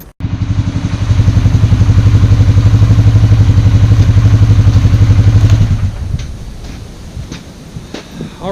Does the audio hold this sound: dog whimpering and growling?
no